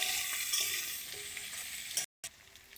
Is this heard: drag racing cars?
no